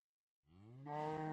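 A single cow in the Minecraft video game lets out a long, rising moo after a moment of silence, clear and alone.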